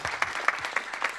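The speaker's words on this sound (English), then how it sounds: "Can we have a round of applause for him?" An audience at a small business and entrepreneurship policy forum gives Commissioner O'Reilly a brief round of applause, a quick burst of roughly rhythmic clapping from a modest crowd, fairly close.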